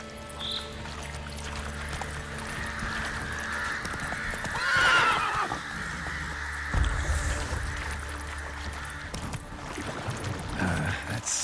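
Horse in The Witcher 3 ridden through the game world, with hoofbeats and a loud neigh near the middle, set against steady ambient game sound and a brief voice near the start.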